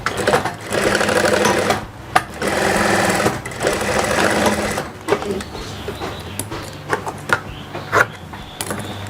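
Sewing machine stitching the collar fabric of a kebaya, a loud steady mechanical whir running in long bursts with short stops and clicks, while someone talks.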